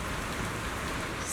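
Steady rain falls in a Zenless Zone Zero scene, a dense, even hiss of drops on surfaces that holds at a constant moderate level for the whole brief stretch, with no voices.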